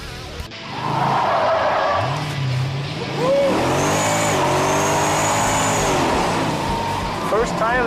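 A Dodge Challenger muscle car slides sideways on a race track, its engine roaring loud and continuous with tires scrubbing and squealing through the drift, a voice talking over it.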